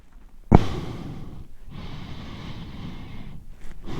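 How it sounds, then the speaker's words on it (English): Close, muffled breathing inside a Shoei Neotec 2 motorcycle helmet, with a sharp bump at the start, then slow, heavy inhales and exhales. "I can hear my breathing quite clearly, so the microphone's bound to be picking that up"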